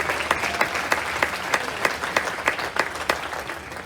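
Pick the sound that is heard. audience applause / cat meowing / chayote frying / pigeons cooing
audience applause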